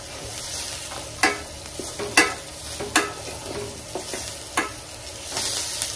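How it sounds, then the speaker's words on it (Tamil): Food sizzles in a hot pan as turmeric powder is stirred in, a spoon scraping and clinking against the pan every second or so over a steady crackle, close by and without speech. "நல்லா கிண்டு."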